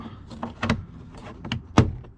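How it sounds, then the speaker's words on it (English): Plastic trim clips pop loose from a Toyota Sequoia or Tundra door panel, a few sharp close snaps and clicks at irregular intervals with soft rustling of the panel between them. "Once you pop off those clips, the door should come right up."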